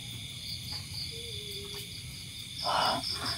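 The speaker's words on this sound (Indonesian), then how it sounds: "Hanya ada suara jangkrik weh" Crickets chirp in steady high bands through the night air inside an abandoned COVID hospital, with a faint low rumble beneath and a brief louder rustle near the end.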